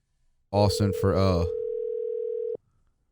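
A telephone dial tone holds steady for about a second after a brief burst of speech, then cuts off abruptly; the call is being placed to a friend.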